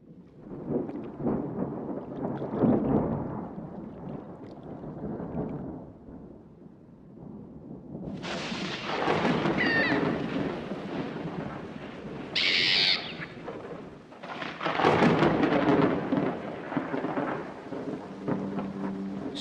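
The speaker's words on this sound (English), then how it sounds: "Storms are frequent." Thunderstorm with heavy rain pouring steadily throughout, broken by loud bursts and rumbles of thunder in the middle and again near the end, with no voices.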